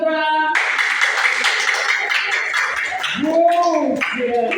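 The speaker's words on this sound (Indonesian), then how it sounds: "tepuk tangan buat Putra." A steady round of audience applause for a student at a school session on recognizing potential, continuous clapping followed by voices talking over the tail end.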